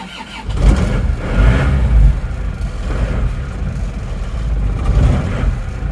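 A 22-year-old Isuzu Panther diesel engine from Bali cranks and catches, giving a loud, rumbling start that settles into a continuous low engine drone close by.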